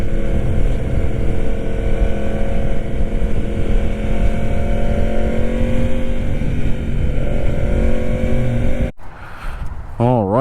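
A 1000cc motorcycle cruises on a freeway with a loud, steady engine drone and wind rush that fade slightly before the sound cuts abruptly near the end.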